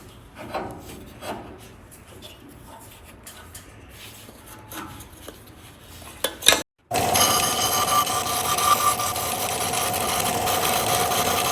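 Hand sanding on a wooden golf putter head, working it down to a marked line: steady rubbing rasp, soft and intermittent at first, then a brief gap before louder, continuous close scraping.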